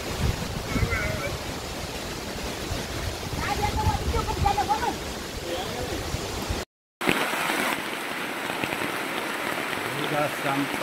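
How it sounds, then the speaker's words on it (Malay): Rain falls on a hiking trail to Lata Berdebu in Malaysia, a dense, steady hiss of drops on foliage and ground that continues on both sides of a short break in the sound. "hujan."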